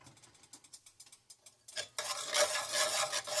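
A metal spoon stirs a pot of rice, lentils and stewed chicken. Rhythmic scraping clinks come first, about a dozen quick strokes, and then a louder sizzling rush of stirring follows. No one speaks.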